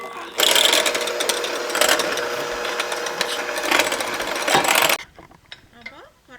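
An electric hand beater whirs loudly and steadily through chocolate cake batter made with powdered sugar and eggs for a no-oven cake, running about four and a half seconds before cutting off, followed by faint quieter sounds.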